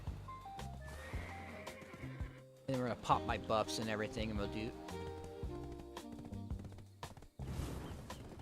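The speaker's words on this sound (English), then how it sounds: "let's get my horse" A horse in Black Desert Online neighs and its hooves clip-clop in steady rhythm, with someone talking over the game sounds throughout.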